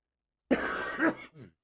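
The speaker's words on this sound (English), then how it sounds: "clear my throat" A single short, close throat clearing, a rough guttural rasp ending in a small catch.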